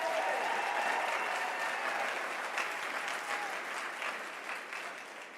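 A CPAC conference audience applauds steadily in a large hall, dense clapping held at a fairly even level for several seconds before easing slightly toward the end.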